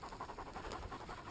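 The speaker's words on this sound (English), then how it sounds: "these dogs are panting and we haven't done anything but walk" Two dogs pant steadily and close by after a walk in warm weather, a rapid, breathy rhythm running throughout with no talking.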